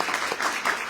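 Brief audience applause at a church talk on inner healing, a quick close burst of many hands clapping with no voices.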